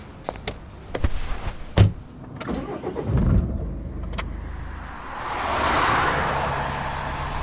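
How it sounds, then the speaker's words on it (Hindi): A car in an audio drama, heard alone with no talk: sharp door and key clicks, then a near engine rumbling up, idling and winding down as the car pulls into a college parking lot and stops. "गंगा ने कार काव्या के कॉलेज की पार्किंग में रोक ली थी"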